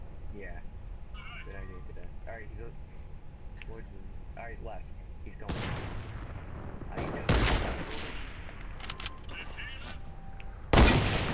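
Gunfire in the video game Fortnite: a few sharp, loud shots burst out in the second half under ongoing talk from players.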